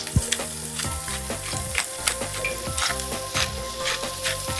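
Vegetables fry in hot oil, including shallot, carrot, pepper, celery and squeezed eggplant: a loud, close, continuous crackling sizzle with bursts of popping and stirring clatter.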